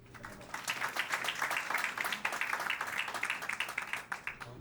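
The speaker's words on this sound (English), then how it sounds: "let's give a big round of applause to our first panelist, Dr. David." Steady applause from an audience at a conference panel session during an investment and market research mission in the Philippines, with dense, continuous clapping at moderate loudness that lasts throughout and fades slightly at the end.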